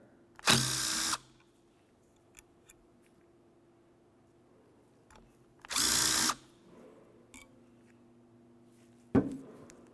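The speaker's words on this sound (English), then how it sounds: "We're going to turn it up so we can access our 2 10mm headed bolts. Remove the pair." A power tool whirs in two near, loud bursts of about a second each, taking out a pair of 10mm bolts on an air injection check valve from a 2005–2010 Chevrolet Cobalt, with quiet clicks between and a short final buzz.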